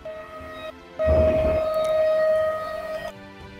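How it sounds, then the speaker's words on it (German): A civil-defense-style siren wails as a steady, loud held tone, its onset and ending dropping back to a quieter hum, with no talk over it. "Es hört sich nach Sirene an."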